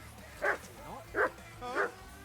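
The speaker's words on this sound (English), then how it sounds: "that mutt of yours to stop barking, will you?" Three loud, spaced barks come from a dog in the medieval game Kingdom Come: Deliverance II, with a faint whine between them and light talk in the background.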